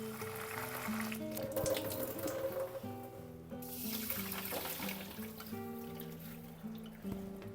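Sesame seeds are rinsed in water, a soft trickling and sloshing of water in a vessel, faint and close, with a steady tonal hum in the background.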